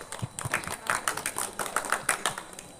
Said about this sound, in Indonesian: mari kita berikan tepuk tangan kepada kelompok 3 yang sudah mempresentasikan